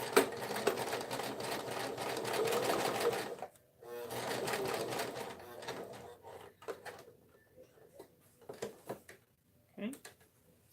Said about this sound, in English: you're gonna stitch this, edge stitch this.